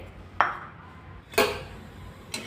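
Peanuts being dry-roasted in a hot kadhai are stirred with a metal spoon: three bright metallic scrapes and clinks against the pan about a second apart, close, with a soft rattle of nuts between them.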